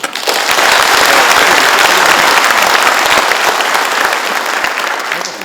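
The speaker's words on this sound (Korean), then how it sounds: "도민의 이름으로 박수와 갈채를 드립니다" Sustained, loud applause from an audience at a provincial governor's inauguration ceremony, dense clapping filling the whole stretch without pause.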